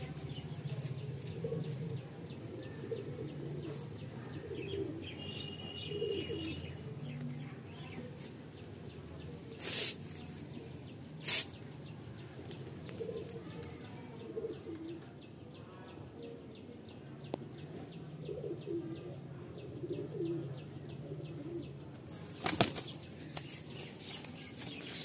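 Pigeons being released, with repeated bursts of wing flapping and scattered soft coos over a steady background murmur, the flaps loudest as sharp isolated beats near the middle and end.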